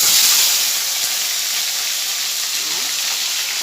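Chopped tomato going into spice paste frying in a pan for hilsa kalia, giving a steady loud sizzle and steamy hiss that stays even throughout, with no talking.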